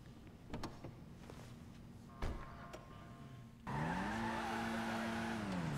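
A Dinka Kanjo SJ, a front-wheel-drive Honda Civic–style car in GTA Online, idles with a low hum and then revs hard. A rising engine whine with tire noise takes over for the last couple of seconds.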